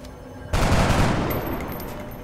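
One heavy gunshot in the turn-based strategy game XCOM: Long War, cracking out abruptly after a quiet moment and trailing off in a long, rumbling tail.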